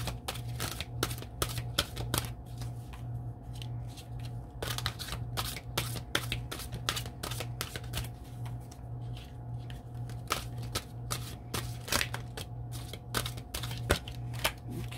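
Cards are shuffled again and again during a tarot card reading, a steady run of soft flicking clicks and riffles sounding close by, alone with no talk.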